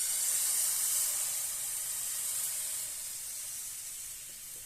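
A steady, bright hiss of thin crêpe batter frying in a hot pan, loudest at first and easing slightly as it continues, with no voices.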